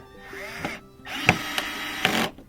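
A power driver runs screws back into the bumper mounts of a Toyota Prius during a rear bumper replacement, giving a few short whirring bursts close by with brief pauses between them.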